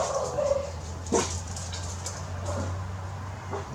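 Dogs barking at people walking their dogs past outdoors at dusk, a few scattered short barks at moderate distance over a steady low hum, with no talking.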